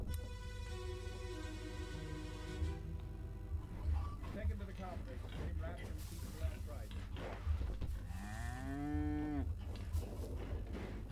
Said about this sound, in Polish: Nie wiem, to jakaś krowa?